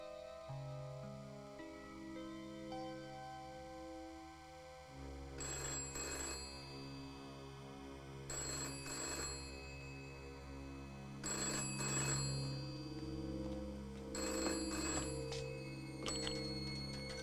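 A telephone bell rings in four repeated bursts, loud and close, over a steady background hum.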